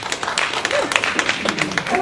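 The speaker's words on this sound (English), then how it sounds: "You clap for anything." A college audience at a Western Washington University Republicans talk breaks into scattered clapping, close and continuous, with voices and chatter mixed in around it.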